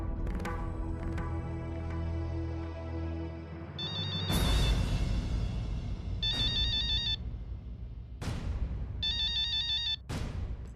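A phone ringtone chimes in repeated short melodic bursts, with background music playing underneath.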